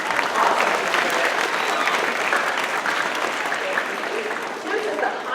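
A band audience at a spring school concert gives the flute players a big round of applause, dense and sustained and fairly close, with faint voices mixed into the crowd.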